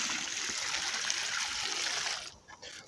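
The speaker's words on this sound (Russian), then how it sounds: "Вливаю еще одно ведро воды." Steady rushing pour of a bucket of water splashing onto soil around a newly planted grape seedling, continuous and close for about two seconds, then cutting off abruptly with a few faint trickles.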